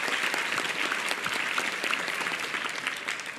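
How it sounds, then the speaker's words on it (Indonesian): Audience clapping for a young person's question at a youth and national-defence talk event in Indonesia: continuous dense applause from a sizeable crowd, even and fairly loud throughout, with no voices over it. "Tepuk tangan buat pertanyaan yang luar biasa."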